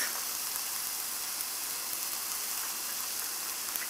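Garlic sizzles in a hot pan while cooking for spaghetti, a steady, loud, even hiss that carries on without a break and with no voices over it.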